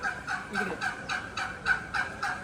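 A flock of chickens, including Kaveri, Polish Cap and Brahma breeds, clucks and calls in rapid, rhythmic bursts on a poultry farm, several birds close by with overlapping chatter.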